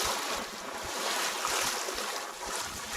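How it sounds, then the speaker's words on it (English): A sailboat moves past the Keppel islands, with a steady rush of wind and waves washing against the hull at close range and no voices. "Sailing along now, just leaving the Keppels."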